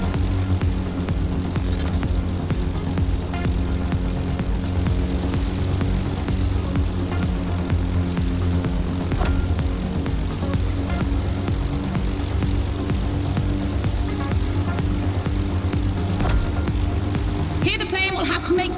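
A plane's engine in the racing game The Crew Motorfest drones steadily and loudly with a throbbing low hum throughout, under continuous commentary from someone talking.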